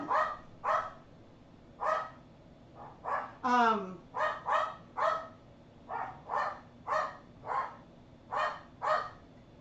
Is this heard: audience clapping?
no